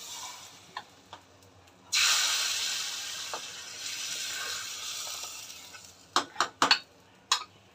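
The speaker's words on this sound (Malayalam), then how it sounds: "ഞാൻ കടുക് കൂടെ വറുത്ത് ചേർക്കട്ടെ" Mustard seeds frying for a sambar tempering, a sudden loud hiss as they hit hot oil that slowly fades, followed by sharp clinks of a pan and utensil near the end, with no talk.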